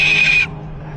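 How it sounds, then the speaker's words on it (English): A parrot lets out a single shrill, piercing scream, loud and close, lasting under half a second before it cuts off abruptly into near silence. "Look at the screams, the high-pitched screams."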